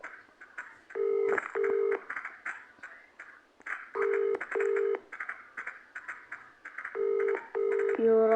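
Electronic telephone tones sound in repeated paired bursts, loud and regular, cycling about every three seconds with a final lower tone, while people talk quietly underneath.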